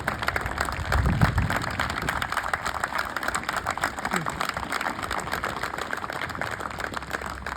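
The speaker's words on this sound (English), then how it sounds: "Give him a round of applause." An audience at a Veterans Day ceremony in New Albany, Indiana, applauds a World War II veteran with dense, sustained clapping that swells early and then holds steady, with voices murmuring underneath.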